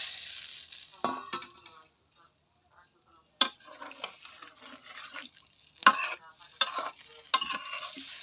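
Boal fish and vegetables go into a hot pan together for a thin curry, giving bursts of frying sizzle with stirring scrapes and clinks of a utensil, loud in intermittent spurts with a brief quiet gap.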